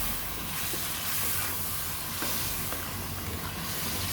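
Cubed potatoes fry in hot oil in a pan, giving a continuous soft hiss and sizzle, close and steady with small crackling pops.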